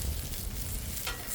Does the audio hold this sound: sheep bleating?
no